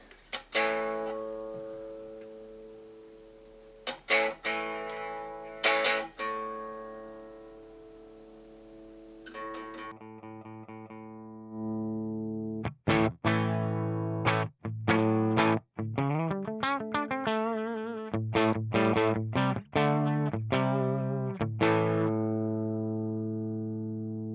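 Distorted electric guitar with humbucker and P90 pickups through a Marshall Origin 50 amplifier rings out loud and saturated, alternating sustained chords with bursts of quick picked notes and abrupt stops.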